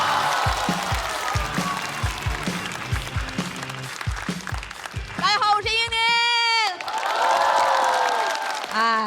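A studio audience at a Chinese stand-up comedy competition applauds and cheers to welcome a comedian onstage. The clapping runs under a thumping music sting, and bright whoops and shouts rise near the end.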